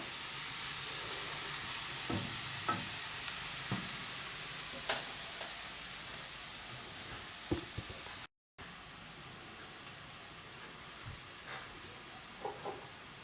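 Vegetables fry in oil in a pan while camping outdoors on a fishing trip, a steady crackling sizzle running throughout with occasional stirring scrapes and small pops.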